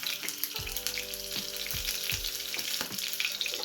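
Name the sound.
curry leaves, green chili and asafoetida sizzling in hot oil tempering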